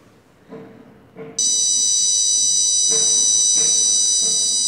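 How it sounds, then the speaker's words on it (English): After a few soft knocks, a loud, high-pitched electronic smoke alarm buzzer, triggered by an MQ2 gas sensor on an Arduino, switches on and holds a continuous piercing tone. "then the smoke alarm is triggered"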